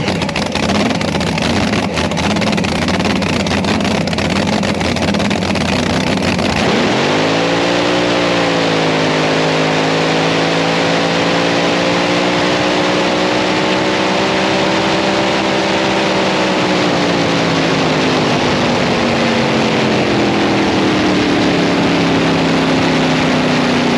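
A CDBA runner-bottom V-drive drag racing boat with a supercharged engine starts up loud and close, then holds a strong, steady roar with slowly rising and falling pitch over constant wash and wind noise.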